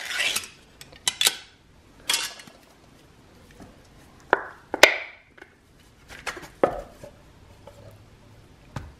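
Cans of SPAM, Bacon and Hickory Smoke flavors among them, are opened: a string of sharp metallic clicks, pops and scraping clatters come in irregular bursts, close and fairly loud, with quiet gaps between and no talking.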